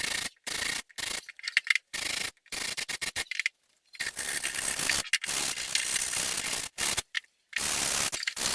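Hand sanding a workpiece for a homemade weld-free bench vise, harsh rhythmic scraping strokes in short bursts separated by brief pauses, close and steady.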